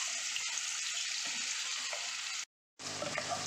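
Capsicum sautéing in butter in a pan hisses with a steady, close sizzle, broken by one brief silent gap before the frying resumes.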